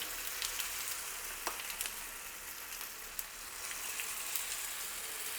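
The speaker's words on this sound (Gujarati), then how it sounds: "વઘાર સરસ તૈયાર થઈ જાય ને એટલે 2 ચમચા જેટલું બેટર ઉમેરી દઈશું." Handvo batter hitting hot tempering with asafoetida and curry leaves in a kadai, giving a steady, bright sizzle and crackle with scattered pops, continuous and close, with no voices.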